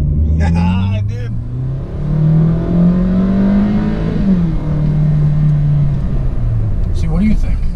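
A 2017 Hyundai Sonata accelerates hard from a standstill, its engine note rising in a steady rumbling climb that dips briefly, then swells again. Loud and close, with people talking over it.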